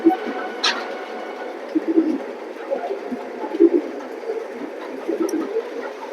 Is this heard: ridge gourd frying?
no